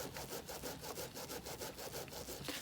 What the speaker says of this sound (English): a very focused rub can sometimes be really helpful where you've got yarns that don't seem to want to felt down very well